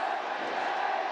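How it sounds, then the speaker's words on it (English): A baseball stadium crowd at the Intercontinental Baseball Stadium roars in a dense, sustained wall of cheering and shouting that fills the space with no break. "the crowd here, Intercontinental Baseball Stadium, cranks it up a few notches."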